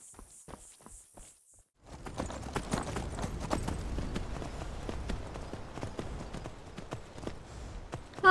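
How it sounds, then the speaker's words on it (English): Horse hooves clip-clop in a video game. A few sparse taps come first, then after a brief pause a steady, close, rhythmic walk of hoofbeats continues to the end. "I'm very glad I found this horse."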